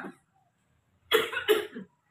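Two or three sharp coughs in quick succession, close and fairly loud, after a brief bit of quiet.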